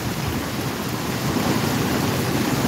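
During a storm surge at Nato Port in Camarines Sur, the sea surges in a steady, loud, close rumble of crashing water, dense and unbroken throughout, with no speech.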